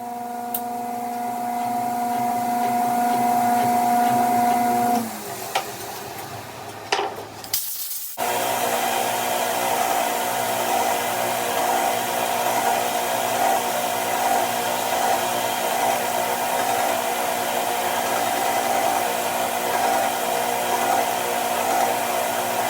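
A belt grinder at 400 grit finish-grinds a steel knife blade, a steady broadband abrasive hiss with a droning motor tone, briefly dipping and cutting out before resuming as a continuous loud grind.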